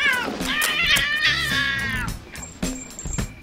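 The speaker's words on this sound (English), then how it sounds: "The cats that we have for Meet the Fockers all come from rescues, with the exception of Misha" Rescued cat on a film set meowing loudly and close, a long drawn-out wavering meow followed by a few shorter, quieter cries.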